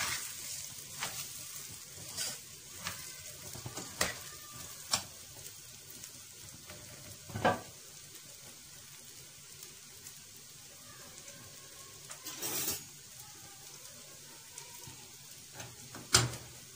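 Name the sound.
rice being stirred in hot ghee and oil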